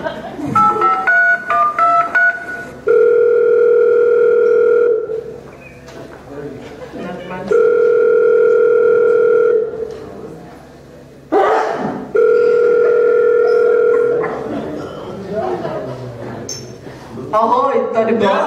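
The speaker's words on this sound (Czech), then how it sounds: "Zavoláme tedy paní Beatu" Steady electronic call tones on a television quiz show, sounding in three long, loud, even beeps separated by short gaps, with voices talking and reacting between them.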